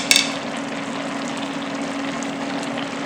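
Cooked sweet potato is stirred into risotto rice in a hot pan, giving a steady sizzle and frying hiss with a brief scraping clatter at the start, close and fairly loud with no talking.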